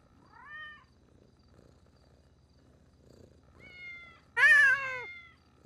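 Kittens in GTA 5 give several short, thin meows close by, with soft purring and low rumbling between them, ending on one louder, longer meow.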